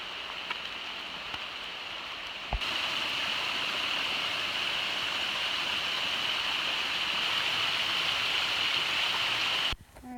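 A shallow river flows past on a rainy day, a steady broad rushing wash heard close and continuous, with a couple of faint knocks near the start and end.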